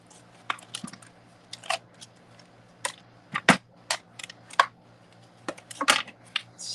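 A Stampin' Cut and Emboss die-cutting machine gives off a run of sharp, close clicks and snaps in irregular bursts, with quiet gaps between them.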